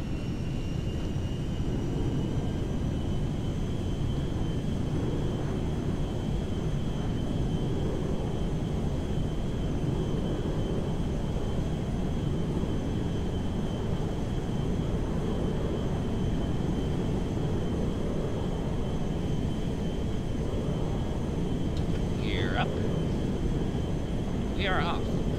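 Airplane engine roaring in GTA V under FiveM during takeoff from Zancudo, a loud continuous drone filling the whole stretch with a steady whine above it, and near the end a brief rising chirp.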